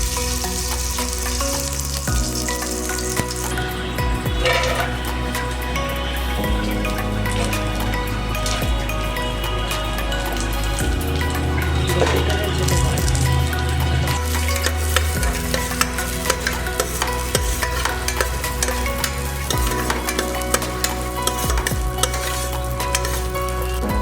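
Chopped cashews, raisins, pistachios and almonds fry in ghee for payesh, giving a loud, steady close-up sizzle with occasional stirring scrapes and no talking.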